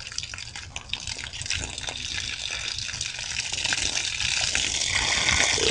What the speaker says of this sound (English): I'm going to grab the hose and get some water on it.